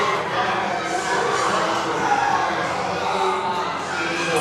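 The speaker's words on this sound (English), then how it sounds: "the crowd is cheering crazy out there" Powerlifting meet crowd at a regional deadlift session, a dense steady roar of many voices cheering and shouting, sustained and fairly loud throughout with no single clear voice on top.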